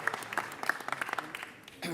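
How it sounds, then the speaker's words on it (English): An audience at a Norooz celebration in Los Angeles City Hall breaks into brief scattered clapping that fades quickly as a voice speaks over it. "Let's give him another round of applause for this wonderful gift."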